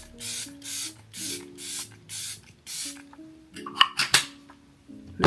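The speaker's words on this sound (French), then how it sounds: "Le dernier spray, je l'ai mis trop près." Hairspray sprayed onto hair in six bursts, each a hissing puff lasting about half a second at an even pace, followed by a few clicks and knocks, with no talk.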